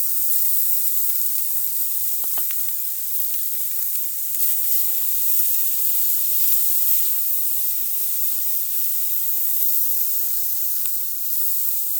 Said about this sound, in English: I am going to put some rice in there and stir fry some rice.